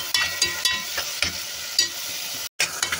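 Onions frying in a pan are stirred in repeated scraping strokes over a steady sizzle, close and fairly loud, with a brief dropout near the end.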